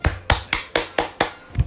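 Hands clap seven times in a quick, steady rhythm, close and crisp, each clap sharp and distinct with no talking.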